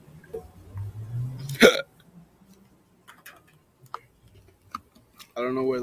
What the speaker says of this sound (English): I don't know where those hiccups are coming from.